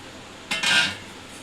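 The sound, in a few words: kadai (wok) being placed on the stove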